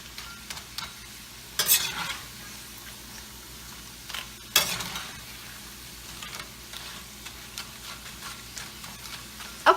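Corn tortillas frying in hot oil in a pan, a soft continuous sizzle broken by a few sharp scrapes and clatters as they are moved about, close and fairly quiet.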